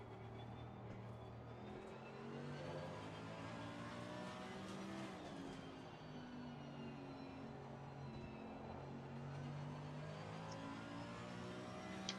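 Race car engine in a racing video game, the throttle feathered so the steady revving note rises and falls in waves, continuous and fairly close, with no talking.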